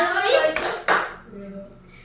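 A classroom clapping game, with a couple of sharp hand claps from a group of schoolchildren, the bursts brief and near, followed by faint talk and room noise.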